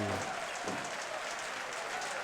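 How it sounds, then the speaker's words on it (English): A brief patter of light clapping from a wrestling crowd, even and restrained, fading quickly. "Some polite applause."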